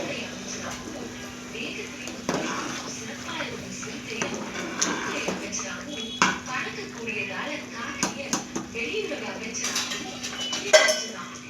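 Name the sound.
putting a lid on a pot of boiling rice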